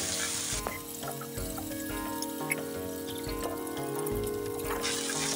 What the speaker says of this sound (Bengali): ভালোভাবে নেড়ে একটু মিশিয়ে নিব।